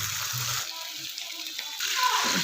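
Water poured into a hot pan of frying chicken karahi masala with black pepper, a steady hiss and sizzle with brief splashy surges and a few light clinks.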